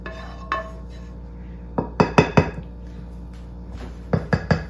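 Bowtie pasta being mixed in a bowl gives off scattered clinks and knocks, a lone tap and then a cluster of sharp utensil strikes against the bowl, close by and moderately loud.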